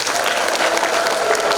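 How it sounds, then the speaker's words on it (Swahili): Audience applause rings out in a church, a dense steady patter of many hands clapping close by for the whole short stretch. "Naomba tuwapigie makofi."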